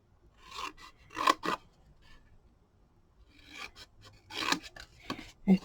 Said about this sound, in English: you are going to cut this part right here off